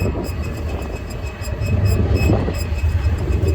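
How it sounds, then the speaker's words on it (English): A train passes nearby, its low rumble rising and swelling steadily through the whole stretch with no talk, outdoors beside a commercial swamp cooler being serviced. "Oh, and now there's a train coming by."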